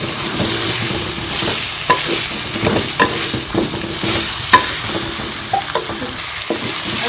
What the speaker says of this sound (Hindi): अब हम इसमें फ्राई किया हुआ चिकन शामिल कर लेंगे। इसको अच्छी तरह से मिक्स कर लेंगे।